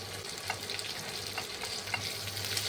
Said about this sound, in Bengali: এবার আমি কিছু কুচনো পেঁয়াজ দিয়ে দিচ্ছি